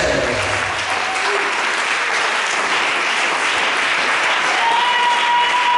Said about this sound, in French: Acclamons pour le sel.